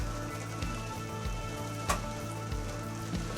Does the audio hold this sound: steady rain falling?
yes